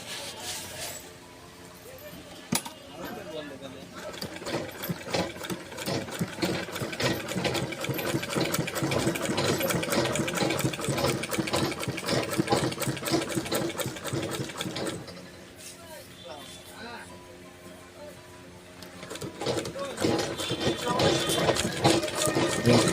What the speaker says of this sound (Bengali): সেলাই শুরু করি।